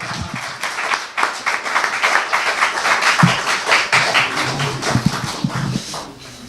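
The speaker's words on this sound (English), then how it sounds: "Please give him a round of applause." Audience clapping at a workshop after a presenter is introduced, a dense patter of many hands mixed with sharper individual claps, steady and fairly close for several seconds.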